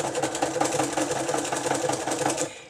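A sewing machine runs steadily with white cotton thread on the back, laying heavy stitches through fabric pieces in a fast, even mechanical rhythm heard close and alone.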